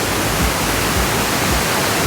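A waterfall swollen by heavy rain roars loudly from close by near its top, a constant dense rush of water with no other sounds.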